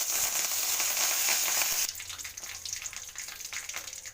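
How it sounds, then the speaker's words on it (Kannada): Mustard seeds, cumin and curry leaves hit hot oil for a sambar tempering, giving a loud close hiss that drops suddenly into a quieter, crackling splutter of rapid pops. "ಸಾಸಿವೆ ಬಿಡಬೇಕು ಸಾಸಿವೆ ಸಿಡಿಬೇಕಾದ್ರೆ ನಂತರ ಚೂರು ಜೀರಿಗೆ ಚೂರು ಒಣ ಸ್ವಲ್ಪ ಕರಿಬೇವು"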